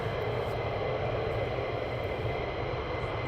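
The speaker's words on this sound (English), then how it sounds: "They could be waiting for more aircraft to be taxiing down." A steady, continuous engine roar and whine from military aircraft taxiing at RAF Lakenheath, moderately distant and unbroken, with no voices.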